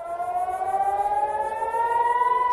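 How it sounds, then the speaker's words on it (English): An air raid siren in northern Israel wails in a steady, slowly rising tone, loud and sustained with no break, a civil defense warning heard alone. "air raid sirens sounded in northern Israel"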